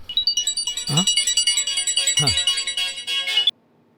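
An electronic phone ringtone plays a repeating, pulsing melody for a few seconds, then cuts off abruptly. Two short swooping voice sounds occur partway through.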